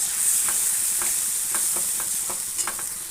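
Ginger paste, cumin paste and turmeric powder stir-fried in a pan for dalia khichuri: a constant bright sizzle close up, broken by regular scraping strokes of a spatula about every half second.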